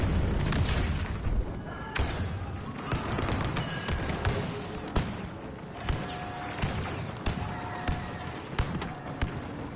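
Grenade blasts in the Star Wars Battlefront 2 video game land as a string of sharp thumps and booms, repeating irregularly amid busy battle noise and occasional voices.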